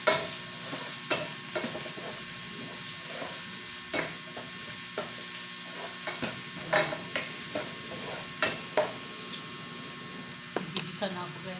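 Chicken balls sautéing in a frying pan, with a steady soft sizzle and a series of irregular stirring scrapes and taps spread across the whole stretch, fairly close, with a faint voice now and then.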